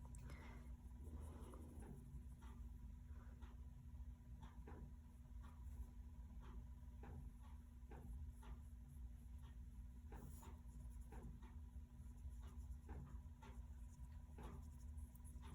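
Pencil shading darker tones onto paper for a 3D rainbow drawing, a faint scratchy rasp repeating in short strokes under a steady low hum.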